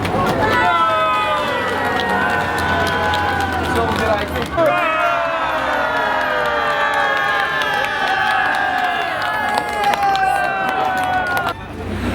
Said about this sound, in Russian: Прошу под аплодисменты и овации поприветствовать это дело.